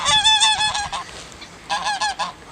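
Loud, close honking from ducks, two bursts of rapid repeated nasal calls separated by a short pause.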